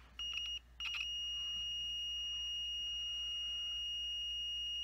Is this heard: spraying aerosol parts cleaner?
no